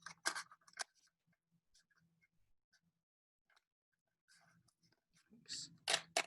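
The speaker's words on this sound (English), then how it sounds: "On the opposite side, I'm going to do the same thing. I'm going to cut off the tip." Scissors snip off the tip of a tube while a rain stick is made, with a few crisp close cuts at the start and end and faint handling clicks between.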